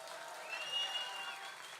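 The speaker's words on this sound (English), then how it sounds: "Give them a nice round of applause" Audience applause at a roast-style tribute event, a steady wash of clapping that swells slightly midway and holds at moderate, somewhat distant level.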